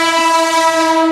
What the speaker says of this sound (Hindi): ट्रेन भी आ गई अपने